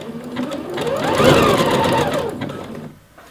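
A sewing machine stitches elastic onto a waistband in one close, steady burst of rapid mechanical whirring that swells and then slows to a stop after about three seconds.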